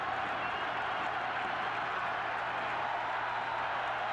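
A baseball stadium crowd cheers and applauds in a steady, dense roar heard from a distance, without breaks, as background under the ballpark atmosphere.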